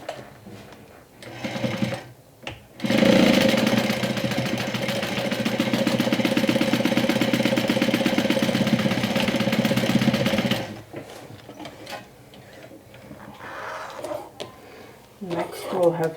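Sewing machine stitches the sides of a Sew Sweetness Gloss cosmetic bag, a steady rapid mechanical whir running about eight seconds close to the mic, with a person talking quietly before and after the run.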